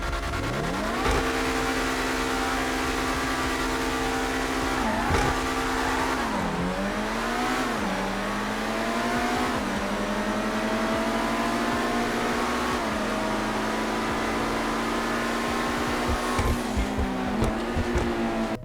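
Video-game sports cars racing in GTA 5, including a Lamborghini and a Ferrari: loud, continuous engine roar with repeated rising revs and gear-shift dips, plus occasional tire squeal, with no talking.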